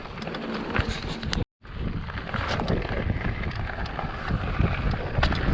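Steady wind roars across the microphone while riding a gravel bike outdoors, a loud continuous buffeting with a brief dropout near the start and no talking.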